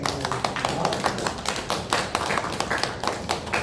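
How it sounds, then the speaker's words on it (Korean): A church congregation at a men's mission society worship service gives a steady round of applause. Close, brisk hand claps patter continuously for several seconds with no talking. "우리 박수로 격려의 박수를 드리겠습니다"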